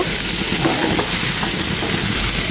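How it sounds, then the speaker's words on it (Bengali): Rice and potatoes stir-fried with spices in a hot pan give a steady, dense sizzle with soft scraping stirs, close and continuous, with no talking. "এই মশলার সাথে খুব সুন্দর করে চালটা, আলুটা একদম কষিয়ে নেব।"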